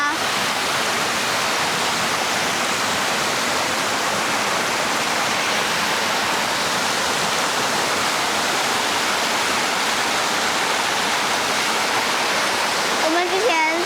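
A mountain waterfall on a stream in a remote Chinese valley rushes as a loud, dense, unbroken roar of white water that fills the whole span, heard up close and steady throughout.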